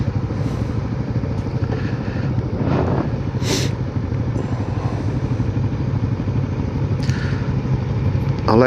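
A 2021 Kawasaki Versys 650 motorcycle ridden in traffic on a demo ride, its engine drone steady and loud throughout with wind rush and a few passing vehicle sounds.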